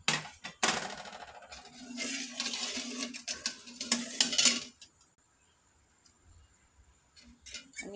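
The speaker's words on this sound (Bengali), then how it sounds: "আমি দুধটা নাড়তে থাকবো।" A utensil stirs milk with cardamom, cinnamon and bay leaves in a pot for payesh, a busy run of close metallic clinks and scrapes for several seconds that stops before near-quiet, then a few soft knocks at the end.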